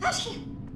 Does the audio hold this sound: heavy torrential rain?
no